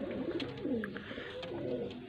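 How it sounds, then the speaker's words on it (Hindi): A pigeon coos softly nearby, low rolling calls repeating twice over a faint background murmur. "ये पहला कबूतर है जी"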